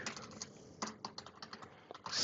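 A command being typed on a computer keyboard in a terminal: a short burst of close, quiet, rapid key taps in an uneven rhythm, ending in a slightly louder clack, with no talking.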